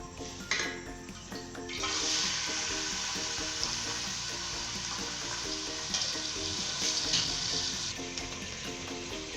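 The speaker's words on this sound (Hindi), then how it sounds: "और इसमें हम डालेंगे प्याज जो कि हमने काटी है" Chopped onions frying in about half a cup of hot oil in a pan for keema karela, a steady close sizzle with occasional stirring and utensil clinks throughout.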